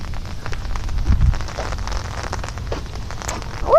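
Rain falls outdoors, a steady soft patter of drops on surfaces with a low rumbling wash underneath, fairly close and continuous, with no talk.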